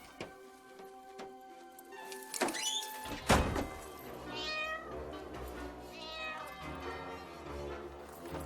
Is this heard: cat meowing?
yes